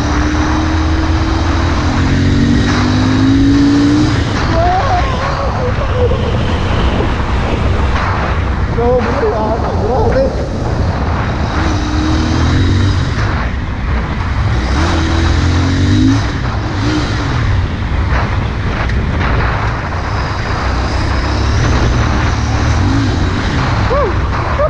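Royal Enfield Interceptor 650 motorcycle, a 650cc engine on a test ride, giving a loud continuous drone with rising and falling revs, heavy wind rush and a rider talking over it.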